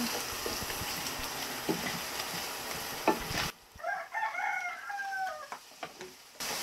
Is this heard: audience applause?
no